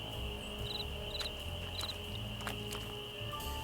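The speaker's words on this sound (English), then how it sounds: "Where are the crickets? I hear them chirp, chirp." Crickets in the video game Nancy Drew: Ghost Dogs of Moon Lake give a few short repeated chirps over a steady insect drone and outdoor night ambience, fairly quiet, with no talking.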